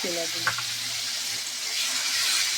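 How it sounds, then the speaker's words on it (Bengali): Boiled chickpeas frying in hot oil with five-spice seeds in a pan, giving a steady soft sizzle throughout, fairly quiet, with a brief clink near the start. "ছোলাগুলো তেলের মধ্যে ভেজে নিয়ে"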